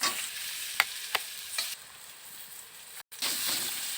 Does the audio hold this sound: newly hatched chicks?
no